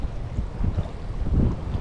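Strong wind at an open-water fishing spot on an overcast late afternoon buffets the microphone, a loud, continuous low rumble that swells and eases without any speech.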